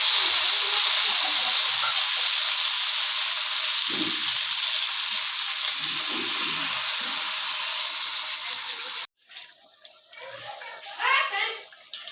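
Water goes into a pan of spiced frying fish (shankar fish), and a loud, steady sizzle and hiss carries on for about nine seconds before cutting off, leaving quieter bubbling and a few clatters near the end.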